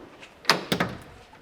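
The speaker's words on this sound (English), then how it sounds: "I'll just open up these back doors, and you've got full height barn doors on this one." Full-height rear barn doors on a VW T6.1 high-top camper van unlatch and swing open, giving a sharp clunk followed by two quicker metallic clicks and thuds, close and clear with no talking.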